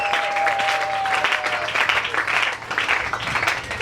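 A church congregation applauds loudly and continuously, a dense wash of clapping close around with a faint high tone at the start and brief vocal murmurs mixed in.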